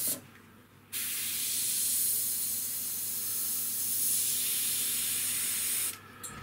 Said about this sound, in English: So I'll get a couple of my plastic spoons out now so we can spray on them. See how it sprays onto plastic